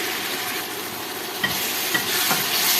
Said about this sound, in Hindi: अब हम इसमें ऐड कर देंगे भिंडी जो हमने फ्राई करके रखी थी